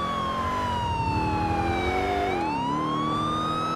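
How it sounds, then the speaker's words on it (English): A loud police car siren in the video game GTA 4 wails continuously, its pitch sliding down and then back up, sounding close and alone over an engine hum. "Everything is legal now that my sirens are on."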